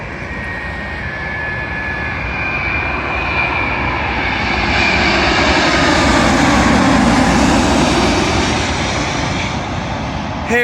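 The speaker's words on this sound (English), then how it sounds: "Arriving in now is a British Airways 787 Dreamliner, working a service from Boston to London Heathrow Airport" A British Airways Boeing 787 Dreamliner arriving from Boston lands on runway 27L at London Heathrow, its loud broadband engine roar swelling steadily to a peak and then easing slightly, with no voices.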